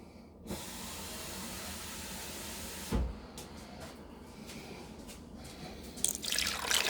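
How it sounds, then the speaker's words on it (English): Cold water runs from a kitchen tap into a can, a steady hiss with a thud near the middle and the flow rising in pitch and brightness as it fills at the end. "I'm just going to get one can of cold water"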